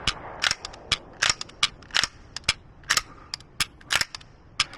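Sharp, close pistol shots from a Beretta APX A1 Compact at an outdoor range, fired one at a time at a steady, fairly quick pace, about a dozen cracks with short gaps and no talk.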